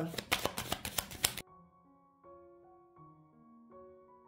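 Tarot cards shuffle in a quick, crisp burst of fluttering riffles for about a second and a half, then give way to soft tonal background music.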